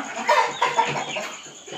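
A village hen, a pure desi country chicken, gives a few short close clucks in quick bursts over a farmyard background, fading toward the end.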